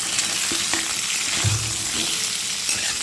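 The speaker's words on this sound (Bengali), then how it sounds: "ওদিকে কিন্তু আমার আলুটা ভাজা হচ্ছে" Potatoes fry under a lid in a covered pan, giving a dense, constant sizzle with a few faint clinks and shifts, close and steady with no talking.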